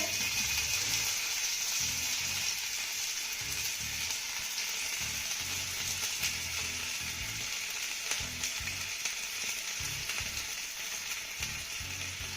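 Stuffed garlic potatoes set on an oiled iron tawa sizzle with a soft, steady hiss, joined by low irregular scraping and knocking from handling on the pan, faint and close.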